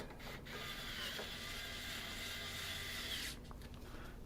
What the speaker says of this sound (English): Put our screws back in on this side.